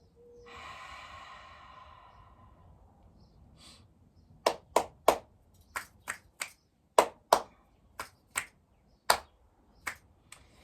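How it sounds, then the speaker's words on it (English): A single person's finger snaps mixed with claps during a stretching session, about a dozen sharp, close, isolated cracks in an uneven rhythm after a soft breathy exhale, with no talking. "Checking in with my clap snaps."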